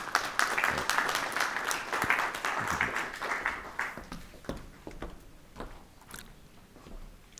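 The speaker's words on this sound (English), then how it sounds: "So welcome to the stage, a round of applause, Professor Rajen Pillay" An audience at a fintech investment conference claps to welcome a professor to the stage, a dense burst of applause that thins out into scattered separate claps.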